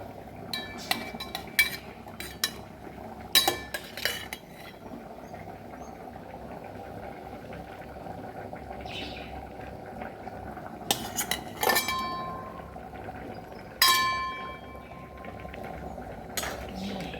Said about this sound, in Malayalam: നമുക്ക് മീനിടാം കേട്ടോ അതിലേക്ക്